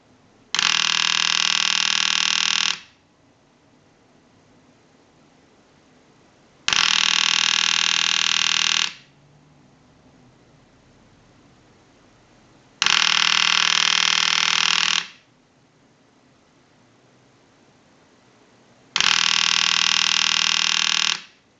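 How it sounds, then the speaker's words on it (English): An Ericofon North Electric telephone rings in four long, evenly spaced bursts of about two seconds each, separated by roughly four seconds of near silence. "send a ring cycle like you were getting a call"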